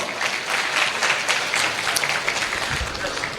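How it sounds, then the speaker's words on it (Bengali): Loud applause from an audience honouring a network marketing leader, dense continuous clapping for a few seconds. "ওনার জন্য জোরে হাততালি।"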